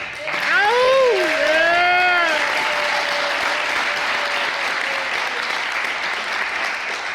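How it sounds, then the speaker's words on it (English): An audience at a library-organized Dungeons & Dragons event at Horticulture Hall, Lake Geneva, Wisconsin, claps steadily throughout, with a voice briefly heard over the applause early on. "I think we should have a round of applause for the organizers from the library"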